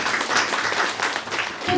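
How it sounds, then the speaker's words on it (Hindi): An audience at an academic session applauds for a student, a dense burst of many hands clapping at once that stays steady and fairly loud for a couple of seconds. "अंशिका के लिए ताली बजाओ भाई।"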